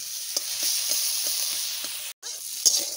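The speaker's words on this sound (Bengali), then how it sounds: "এখনো অনেক সময় ভাজতে হবে।" Fish frying in mustard oil for a home-style curry, giving a steady loud sizzle throughout with a few soft stirring taps and a brief dropout near the end.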